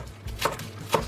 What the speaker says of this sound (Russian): Зеленый лук порежу длинными полосками.